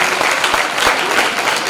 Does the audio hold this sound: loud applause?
yes